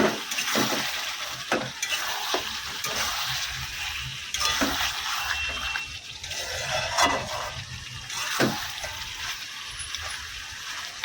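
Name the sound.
stirring parboiled mutton in a frying pan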